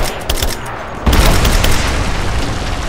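Loud, booming gunfire in Rise of the Tomb Raider, sparse shots at first, then a heavy blast that gives way to sustained rapid firing and rumbling impacts.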